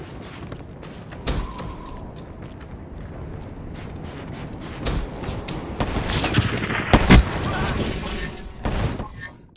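Scattered gunshots in Black Ops 3, sharp cracks spread irregularly through the stretch, with a denser cluster of louder shots near the end over a busy game background.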